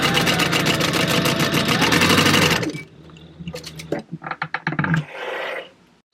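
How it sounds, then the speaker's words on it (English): A sewing machine runs a long basting stitch at stitch length 4 to hold straps on a book bag, a loud, rapid, steady whir that stops, then short stuttering bursts and a brief final run. "Let's go to the sewing machine and base stitch those in place."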